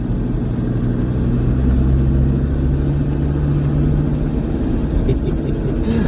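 A Land Rover drives up a rural road near Portmahomack, its engine giving a loud, steady low rumble with road noise that continues throughout.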